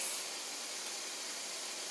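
Water steams on a hot bottom tin plate in an oven while bread bakes, a soft steady hiss throughout with no talking.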